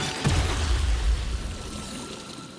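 A water elemental in Baldur's Gate 3 gives off a loud watery gush that surges early, then fades into a softer lingering wash and trickle.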